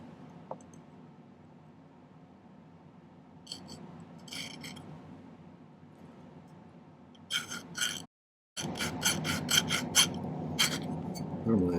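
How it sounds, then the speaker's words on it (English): Metal file cutting a notch into silver for a pendant, quiet at first, then a run of short, close, raspy strokes in quick rhythmic bursts toward the end after a brief silent gap. "I might file a little notch on this one to make it bend sharper"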